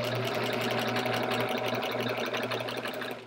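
A sewing machine with a walking foot quilts a chevron-pattern quilt. Its close, steady, rapid mechanical whir hums continuously with no pauses.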